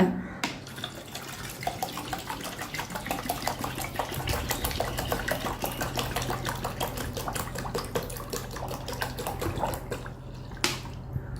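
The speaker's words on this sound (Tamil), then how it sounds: "இப்போ எட்நூறு மில்லி தண்ணியை ஊற்றிக்கிறேன்" Water pours from a measured one-litre can into a container for homemade dish wash liquid, a faint, steady trickling splash that continues for about ten seconds with a low background hum.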